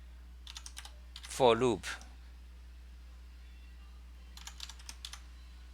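Code being typed on a computer keyboard as soft clusters of key clicks, briefly broken by a spoken word in the middle before the tapping returns.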